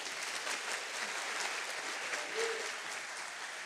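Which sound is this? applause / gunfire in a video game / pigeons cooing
applause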